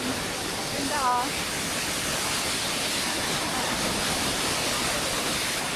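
Turret Falls in Upper Kananaskis, Alberta, a steady broadband waterfall roar filling the scene, with a brief voice near the start.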